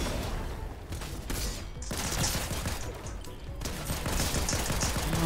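Sustained weapon fire in a Fortnite match, dense rattling volleys rolling on continuously with brief dips, loud and close throughout.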